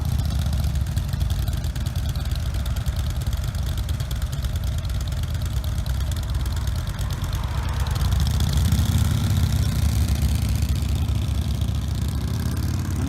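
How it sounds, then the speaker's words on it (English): A group of Harley-Davidson motorcycles rumbles steadily at close range, engines idling and pulling away after a ride near Antietam, with the low throbbing growing slightly louder toward the end. "The Harleys are leaving the room."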